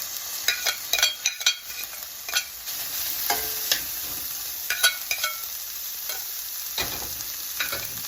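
Peppers and onions hit shimmering oil in a skillet over medium heat, sizzling loudly with repeated bursts of crackle as the vegetables are stirred and shifted, scraping clinks scattered throughout.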